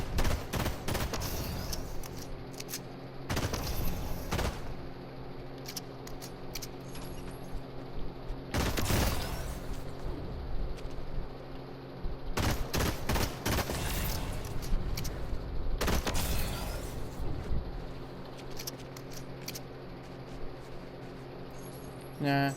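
Fortnite gunfire in bursts of rapid shots and loud booms, separated by quieter gameplay sounds, with a player talking at times.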